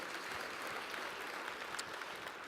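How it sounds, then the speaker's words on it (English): An audience at a general session conference in Las Vegas applauds with steady, dense clapping throughout, heard from a distance with a faint room echo and no voices on top. "Give her a hand clap."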